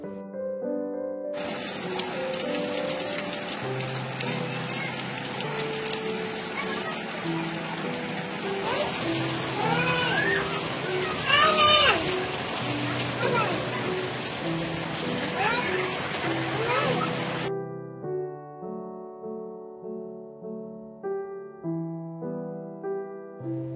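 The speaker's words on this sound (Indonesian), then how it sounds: "pasti aja hujan kalau habis duhur tuh ya teman-teman" Steady rain pours outside a simple home in the early afternoon, a broad, constant hiss that starts suddenly and runs for about sixteen seconds before cutting off, while a person talks over it.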